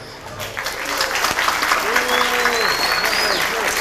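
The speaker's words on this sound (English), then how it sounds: "give him a round of applause there" Audience applause at a hacker conference talk on social engineering, building to a steady crowd clapping while voices and some whooping or whistling carry over it.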